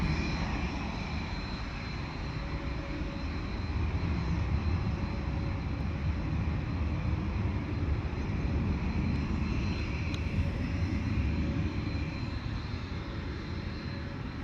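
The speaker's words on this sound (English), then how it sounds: "that A320 is quite heavy. That is one heck of a rumble." Heavy Airbus A320 jet taking off at London Luton Airport in wet, windy weather, a loud, sustained broadband engine roar and deep rumble that holds steady throughout with no talk.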